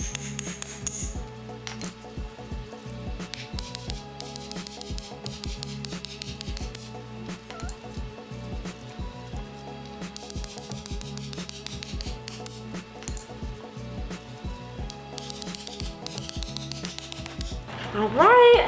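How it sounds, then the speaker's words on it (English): A hammer knocks old wheel studs out of a propped-up car hub on a Honda Civic EK brake job, with repeated metallic bangs and clinks in an uneven rhythm over a steady background. "I'm just gonna be using this hammer to bang it on out"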